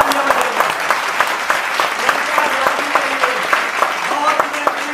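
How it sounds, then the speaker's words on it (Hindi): Audience applause for a student quiz contestant at a school quiz show, steady dense clapping filling the whole stretch at moderate loudness with a few brighter individual claps standing out and a voice faintly underneath. "एक बार जोर से तालियां बजाइए।"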